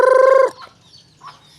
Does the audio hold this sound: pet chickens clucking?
yes